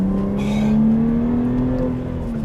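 A Subaru Liberty/Legacy sedan's flat-six engine accelerating smoothly, heard as a steady, rising engine drone from inside the car that stays even and continuous with no voices.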